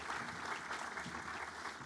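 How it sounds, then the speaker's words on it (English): Audience at a Chamber of Commerce State of the City event applauding award winners, a broad, sustained patter of many people clapping in a large room, steady and moderately loud from start to finish with no talk over it. "Let's give them a round of applause."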